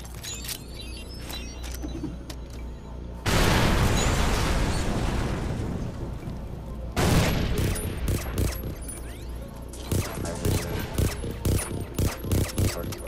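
Loud bursts of rapid gunfire in Far Cry 3 Blood Dragon, two long sustained volleys followed by a string of sharp individual shots, close and dominating, with no talk over them.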